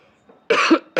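Two sharp coughs from a man in an indoor lecture, close and loud, the second cut off at the end.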